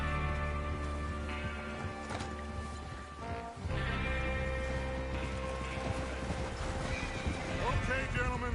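In the Western video game Red Dead Redemption 2, horses whinny and snort while hooves clip-clop steadily over a continuous bed of game sound, with speech mixed in.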